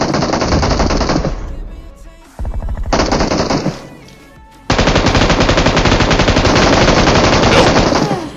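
An M249 light machine gun in PUBG Mobile fires three long, loud, rapid bursts with brief pauses between them, close and dominant.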